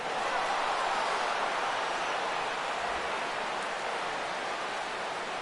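Steady rain falls as an even broadband hiss in a baseball game, MLB The Show 17, constant and moderately loud with no other distinct sounds.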